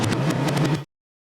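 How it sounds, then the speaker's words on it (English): Reversed drum fill played backwards, a short loud burst of swelling, smeared cymbal and drum hits that rise and then cut off abruptly into silence. "We then reverse the playback so that the break runs backwards."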